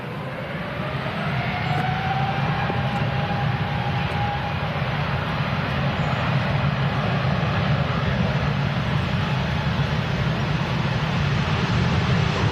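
A large airliner heard from an airport viewing spot at Manchester Airport, its steady broadband engine roar loud and continuous throughout, with a faint whining tone briefly rising early on.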